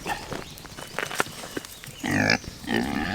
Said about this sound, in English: These are our feeder pigs, these four over here